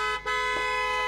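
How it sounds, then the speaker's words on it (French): Car horn honking in a quick toot, tonal and steady, fairly clear with no other sounds around it. "Le bruit du klaxon."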